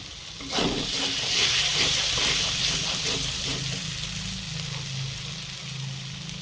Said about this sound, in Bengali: দিয়ে ভালো করে মশলাটা কষাবো